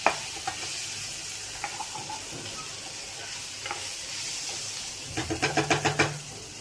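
Chilli mushrooms fry in a pan, a soft low sizzle broken by a few scrapes, then a quick run of rhythmic stirring knocks near the end.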